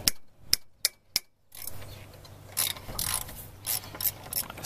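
Ratchet clicking while bolts come out of a bracket on a Honda Prelude with an H22/F20B alternator setup: three sharp separate clicks, then a rapid run of ratchet pawl ticks with faint metallic clatter, close and clear.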